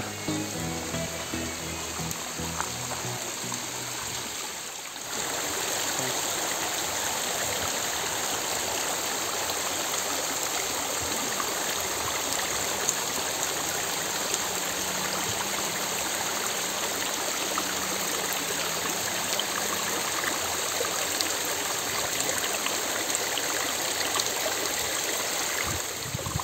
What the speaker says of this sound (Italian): Sento il rumorino dell'acqua.